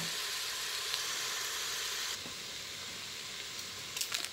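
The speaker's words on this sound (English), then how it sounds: "you don't want to mess with it because you want it to sear" Chicken sears undisturbed in a hot pan, a soft, steady hiss and sizzle heard up close without speech, dropping slightly in level partway through, with a few faint clicks near the end.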